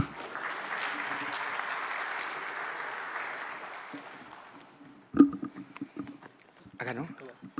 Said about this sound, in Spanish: Recibimos con un fuerte aplauso a Javier Huancarí Moya.